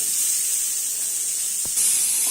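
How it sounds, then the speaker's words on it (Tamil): Onions dropped into hot oil for semiya biriyani, a steady bright hiss of sizzling that swells louder partway through, close and continuous with no talk. "இப்ப வெங்காயத்தை போட்டுக்கிறேன்."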